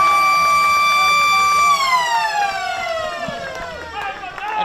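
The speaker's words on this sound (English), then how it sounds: "It's bouncing around, and there is the siren." A loud, sustained end-of-game siren at a football match wails with a steady tone, then drops gradually in pitch, while a crowd murmurs and cheers in the background.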